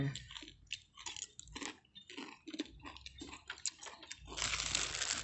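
Crisp, crunchy chewing of fried pork rind, close up, with repeated bites and crunches in an irregular rhythm and no talk.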